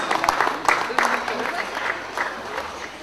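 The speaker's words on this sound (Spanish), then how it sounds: "Esmirna, pido un aplauso." Wedding guests at a church celebration clap in a burst that fades over three seconds, with a voice speaking over the applause and the room's murmur behind it.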